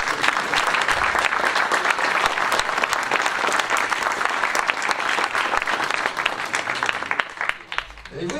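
An audience at a 2016 New Year's reception in Essert applauds a local Miss, a dense, lively burst of many hands clapping close and loud, with scattered voices mixed in, thinning out toward the end.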